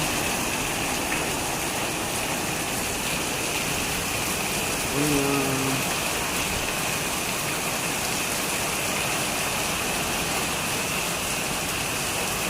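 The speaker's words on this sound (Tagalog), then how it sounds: "Malakas ang ulan, hangin. Ayan, guys, ang patak." Heavy rain driven by wind in the first rain of May, a dense, steady hiss of downpour that stays loud and unbroken throughout, with a brief faint tonal sound near the middle.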